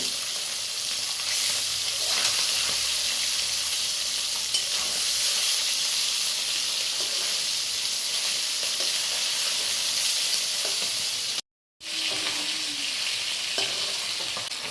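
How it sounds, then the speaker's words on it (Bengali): Steady, close sizzling of snakehead (cheng) fish frying in hot oil, a continuous crackling hiss that briefly cuts out near the end before resuming. "মাছটাকে আমি ভালোভাবে ভেজে নেব"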